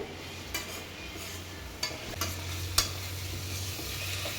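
Paneer pepper dry frying over a low flame, a soft steady sizzle with a few scattered clinks of a spoon against the pan, nobody talking.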